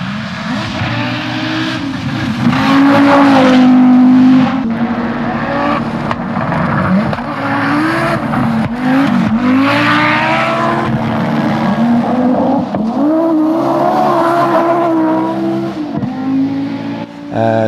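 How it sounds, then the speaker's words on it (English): A short-wheelbase Audi Quattro rally car, ex-Hannu Mikkola 1984, run by David Sutton, roars up close and loud, its engine rising and falling through repeated revs and gear changes with no talk over it. "of course it's the noise of the Quattro."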